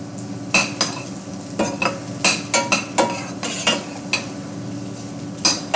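Mushrooms cook in a pan for a fish pie, with a utensil stirring and scraping in a series of irregular metallic clinks over a soft sizzle, close by and without talk.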